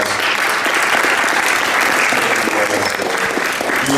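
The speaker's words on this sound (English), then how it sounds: "So let's give our panelists a round of applause." Loud, sustained applause from a community forum audience for the panelists, many hands clapping in a dense, even roar, with faint murmuring underneath.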